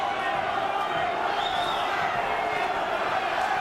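A boxing arena crowd roars in a steady, dense wash of cheering and noise that fills the whole stretch without a break.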